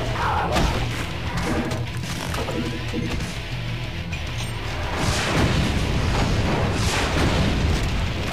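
Revenant homing rockets exploding in the Doom video game, heavy booming blasts and crashes overlapping continuously under loud metal music for the whole stretch.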